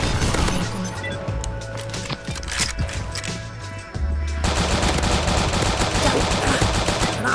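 Rapid automatic gunfire from the Pixel Gun 3D video game, loud and continuous bursts throughout with a denser, heavier stretch of firing in the second half.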